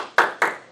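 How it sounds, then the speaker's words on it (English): Two sharp hand claps ring out about a quarter second apart in a quiet board meeting room, loud and close with no talk. "Sorry, that deserved an applause."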